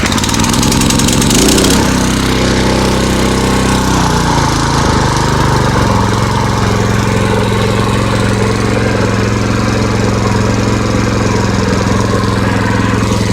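A Husqvarna TF 230 cultivator engine starts with a brief rattling crank, then settles into a loud, continuous close-range running drone with steady vibration throughout.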